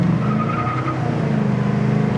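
A 1972 Pontiac LeMans Sport GTO engine runs steadily and loud up close from inside, with a constant drone and a slight dip near the one-second mark that could mark a gear change, and no one speaks.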